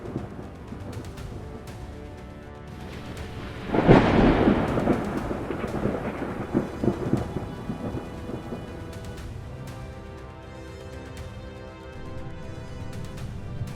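A thunderstorm breaks over a volcano in Guatemala: a loud, close thunderclap bursts out and rolls away into a long rumble, with steady rain hissing throughout.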